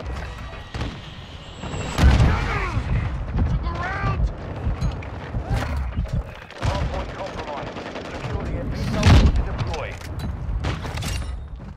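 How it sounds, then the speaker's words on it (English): Call of Duty Modern Warfare 2 match with continuous gunfire and booming explosions from a friendly mortar strike, dense and loud throughout, with in-game voices talking over it. "Friendly mortar strike inbound."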